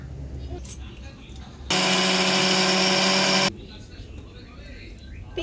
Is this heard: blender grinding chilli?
yes